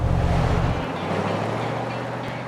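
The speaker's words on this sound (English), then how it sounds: "the truck is done and we're actually driving it now" Square body truck, freshly finished, driving along with a steady low engine drone; a heavier rumble in the first second settles into an even hum, no voices.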